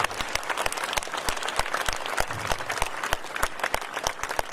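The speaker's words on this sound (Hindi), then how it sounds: "खड़े होकर तालियां बजा के स्वागत" A standing crowd at a Bharatiya Janata Party political rally in Haryana applauds party leaders with dense, sustained clapping, loud and close, with sharp individual claps standing out over the mass.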